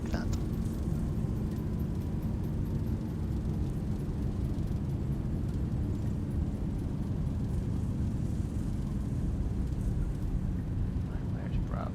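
Boeing 737-800 thrust reversers roaring during the landing roll in the X-Plane 11 flight simulator, a steady loud low rumble of engine noise throughout, with voices talking over it.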